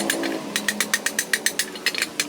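Rapid metallic taps in a steady rhythm, a hammer striking metal repeatedly on a truck fuel tank cover, close and sharp.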